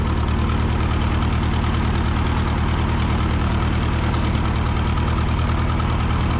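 A Super 44 tractor engine runs steadily with a slight misfire, its low, rumbling, throbbing pulse continuous and close throughout with no voices.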